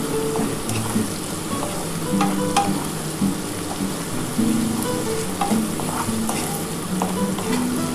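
Onions fry in a pan for a mutton and potato curry, with a continuous close sizzle and repeated scraping and clattering as they are stirred. There is no speech.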